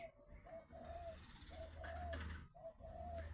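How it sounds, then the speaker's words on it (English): Several pigeons cooing repeatedly in a steady, rhythmic series of soft low calls, fairly close, over a low background rumble. "I have a few pigeons around every morning going ooh, all the time"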